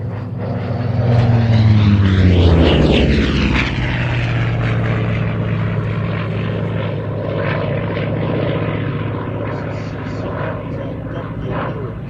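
A Grumman Bearcat piston-engine warplane runs in low and fast, its propeller roar building to a loud peak as it passes close and then settling into a sustained drone while it moves away.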